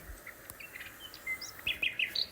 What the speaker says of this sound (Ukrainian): як співають пташки